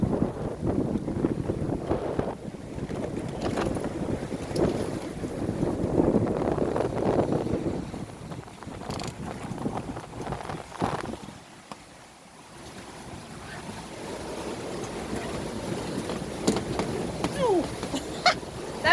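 Sailboat running fast off the Cornish coast between Plymouth and Falmouth in 16 to 20 knots, wind buffeting the microphone over rushing water and hull noise, steady and moderately loud with a brief lull midway.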